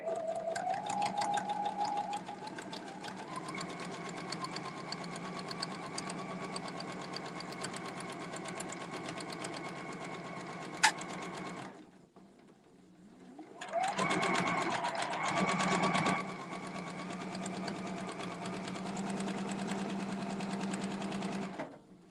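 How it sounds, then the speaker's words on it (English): A sewing machine runs steady quilting stitches along a template, with a continuous close whirring hum that briefly stops near the middle and then starts up again for a long stretch. "Okay, so I'm just going to stitch."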